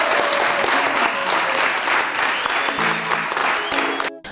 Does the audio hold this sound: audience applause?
yes